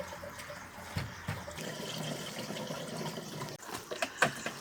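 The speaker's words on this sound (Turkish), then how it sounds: "Şimdi de 25 litre suyumuzu döküyoruz. Üzerine su dökülünce tabii ki bu karışıyor." Water poured into a pump sprayer tank already holding a thick, sediment-heavy nettle mixture for treating tomatoes, a steady close splashing and gurgling pour with a few louder sloshes near the end.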